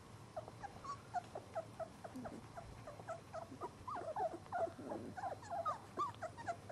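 Puppy whimpering and giving small growls up close, a busy run of short high whines and yips repeating in quick bursts, with no talking over it.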